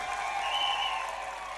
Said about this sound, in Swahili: mimi ningependa mumpigie makofi